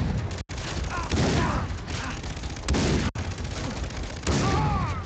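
Shotgun fire in the Far Cry 3 video game comes as dense, loud, rapid booming blasts in a continuous battle din, with two brief dropouts in the sound.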